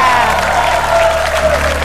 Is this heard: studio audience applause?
yes